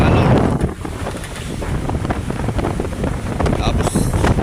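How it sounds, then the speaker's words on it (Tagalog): Strong, gusty storm wind roars and buffets the microphone over rushing, whitecapped sea water, loud and constant throughout. "Lalong lumakas ang hangin."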